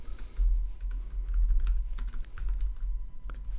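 Keyboard typing on a computer during a Photoshop exercise: a steady run of close, light key clicks over a low constant hum, with no talking.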